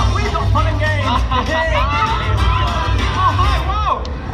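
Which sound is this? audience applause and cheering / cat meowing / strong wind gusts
audience applause and cheering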